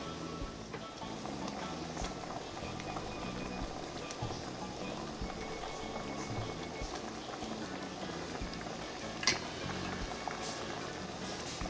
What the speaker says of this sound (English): I'm gonna let the coconut milk cook